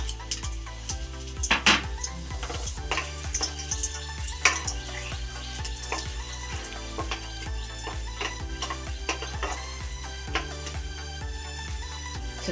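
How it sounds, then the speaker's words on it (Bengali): Whole garam masala and bay leaves temper in hot oil, giving a light crackling sizzle with sharp ticks and pops and occasional clinks of a utensil, close and moderately quiet, with no speech. "এই তেলেই আমি এবার দিয়ে দেব গরম মশলা ফোড়ন, দিয়ে দেব আমি তেজপাতা"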